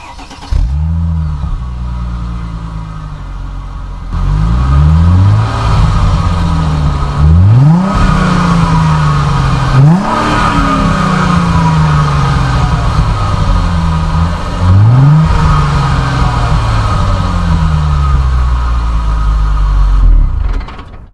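Manual 2006 Chrysler Crossfire sports car engine revving hard in repeated sharp blips, each climbing and falling back, loud and close with no talking.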